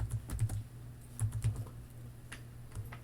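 Soft, quick keystrokes on a computer keyboard while entering an Excel formula, a few light taps in small irregular clusters, close but quiet.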